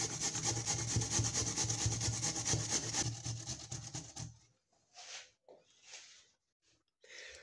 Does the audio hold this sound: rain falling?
no